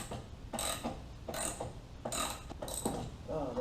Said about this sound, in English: We're going to try and take the nut off the shock